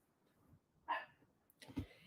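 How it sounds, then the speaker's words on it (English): A pet dog named Prince lets out two separate sharp barks indoors, somewhat distant and moderate in volume, against a quiet background hum. "Why is my mom's dog barking?"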